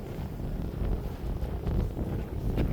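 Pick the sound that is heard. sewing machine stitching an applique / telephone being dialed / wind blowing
wind blowing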